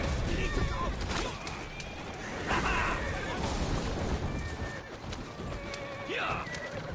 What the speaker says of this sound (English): Must have four horses pulling that one!